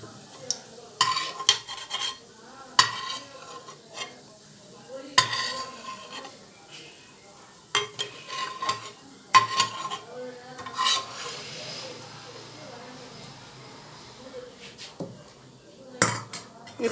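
Chickpeas for biryani are stirred and roasted in oil in a pot, with a low sizzle under repeated scraping and clanks of a metal spoon against the pan, close and uneven.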